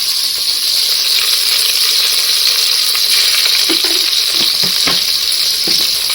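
Ginger garlic paste fries in a pot for chicken biryani, a loud, steady sizzle with a few clinks and scrapes of a spoon stirring near the end, with no talking.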